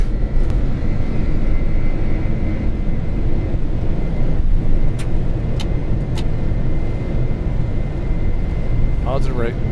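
A heavy National Airlines Boeing 747-400F climbs away from Seoul Incheon Airport with a dense, steady, loud jet engine roar filling the cockpit at takeoff, and a few brief clicks sound near the end.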